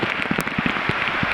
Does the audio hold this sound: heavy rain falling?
yes